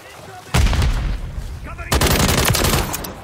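Loud, close gunfire blasts from a sniper rifle in the Call of Duty Modern Warfare 3 multiplayer game, two heavy shots with rumbling tails, mixed with faint game chatter.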